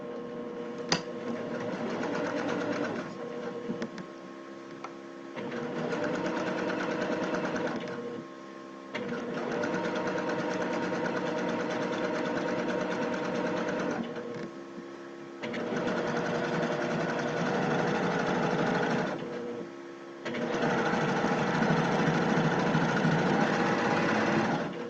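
A domestic sewing machine stitches a shirt placket a needle width from its folded outer edge, running in several long steady bursts of whirring with brief pauses between them, close and clear with no talking.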